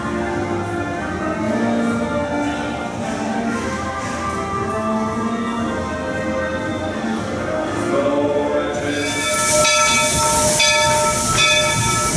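Walt Disney World Railroad steam train on a circle tour of the Magic Kingdom, rumbling steadily with a hiss of steam; the hiss swells brighter near the end, with no talk over it.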